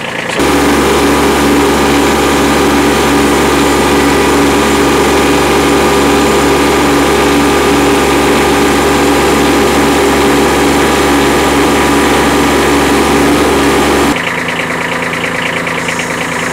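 A Kubota B2301 compact tractor engine runs loud and steady close by with a constant droning tone, then drops abruptly to a quieter, thinner note near the end, with no speech.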